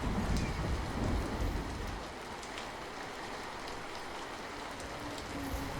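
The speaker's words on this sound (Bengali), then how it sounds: "ভারী বৃষ্টি শুরু হইব" Steady rain pours over a rural village, a dense even hiss that holds throughout and eases a little after the first two seconds, with no voices.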